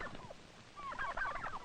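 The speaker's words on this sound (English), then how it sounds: "Turkeys are poultry, just as chickens and ducks." Turkeys on a poultry farm, quiet rapid warbling gobbles, a short call followed by a longer burst of gobbling, faint and somewhat distant on an old recording.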